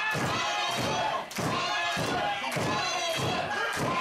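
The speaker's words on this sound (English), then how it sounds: "Fans here in Osaka cheering on Jenny Rose." A wrestling crowd in Osaka cheers loudly and steadily, punctuated by a regular rhythm of rhythmic thumps or claps roughly every half second, a lively arena chant-like pattern throughout.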